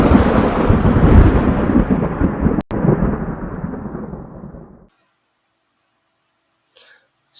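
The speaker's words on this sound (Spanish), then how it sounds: "Las nubes truenan con relámpagos amenazantes" A thunderstorm sound effect plays: a loud, deep rolling rumble of thunder that swells and gradually fades out after several seconds, followed by near silence and a faint brief sound at the end.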